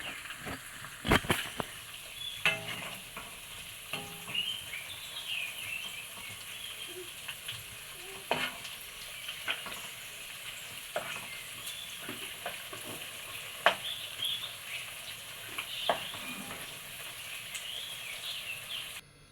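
A potato and egg snack sizzles steadily in a hot pan right after being flipped, with a continuous crackle broken by occasional sharp taps and clicks from a utensil.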